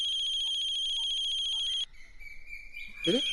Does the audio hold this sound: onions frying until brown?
no